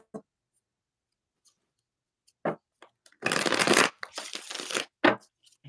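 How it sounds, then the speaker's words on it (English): Oracle cards being shuffled by hand, with a few soft clicks and taps before two dense riffling bursts close up, then a final tap; no talking. "Let's shuffle a couple times."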